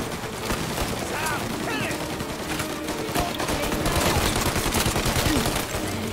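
Rapid bursts of gunfire from Mafia: Definitive Edition crackle continuously as a dense, loud fusillade of overlapping shots, steady throughout with no pauses.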